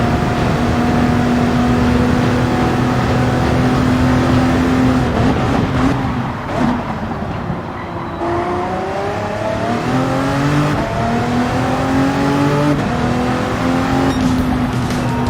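An LMP1 prototype race car engine in Gran Turismo 7 drones loudly and steadily at high revs, its pitch dipping with a gear change and then climbing again through upshifts, with no speech.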